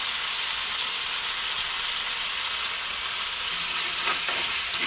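Taro and tomato curry for a knife fish dish sizzles in hot oil in a pan as turmeric is added, a close, steady frying hiss with a brief stirring scrape near the end.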